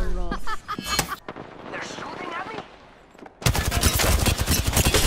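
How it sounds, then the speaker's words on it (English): Gunfire in the Apex Legends battle royale video game: dense, loud bursts of shots and impacts that break off briefly, then return in a sustained barrage, with a player talking over the opening. "They're shooting at me?"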